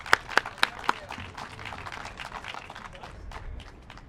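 A few sharp claps up close, followed by quieter scattered clapping and crowd murmur at a ribbon-cutting event for the Manna Church lead pastor, fading into a low background bustle.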